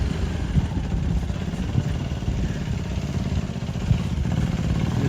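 A KTM Duke 250 engine drones steadily at low revs while the bike slips along a muddy, damaged road, close and continuous with some rattle and wind.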